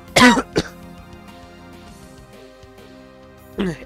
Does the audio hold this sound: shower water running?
no